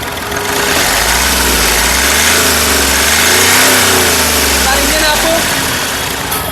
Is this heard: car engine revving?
yes